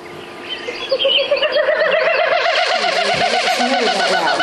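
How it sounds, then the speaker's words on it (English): A Wilson's snipe winnowing at dusk, a rapid tremulous, pulsing hum that rises in intensity and carries on steadily, fairly loud and alone. "here's here's a snipe's winnowing."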